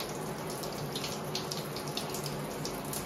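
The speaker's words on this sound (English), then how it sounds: "take a shower." Running water pours steadily from a shower spray while a macaw is bathed beneath it, a close continuous hiss with no voices.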